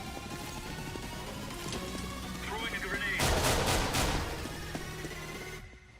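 A UMP submachine gun fires in CS:GO, a fast burst of loud shots in the middle of a steady game background, with a voice talking over it.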